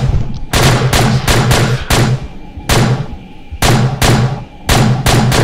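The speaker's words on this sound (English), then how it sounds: "You don't need to keep shooting me." Repeated gunfire in the SCP: Containment Breach video game, loud close bursts of shots in an uneven rhythm with short gaps between volleys, no talking.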